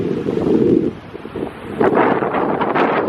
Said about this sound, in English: Unfortunately the sun's coming and the wind's picked up.